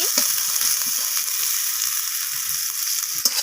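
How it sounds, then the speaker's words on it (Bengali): Dried red chillies and onion fry in oil with a steady hissing sizzle, punctuated by soft stirring scrapes and one sharper knock near the end; no voices. "এরপর আমি শুকনো লঙ্কা আর পেঁয়াজটাকে তেলের সাথে নাড়াচাড়া করে ভেজে দিচ্ছি।"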